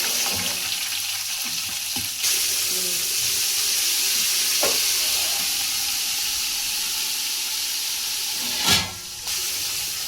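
Garlic and chilies frying in a pan give a steady, loud sizzle and hiss for the whole stretch, broken by a few brief stirring scrapes and one louder clatter near the end; no one speaks.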